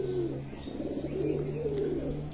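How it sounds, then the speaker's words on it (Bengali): Domestic pigeons released from their loft coo outside it, with a steady stream of soft, low, rolling coos overlapping throughout at close range and no talking. "সবগুলো কবুতর এখন বাইরে চড়ছে"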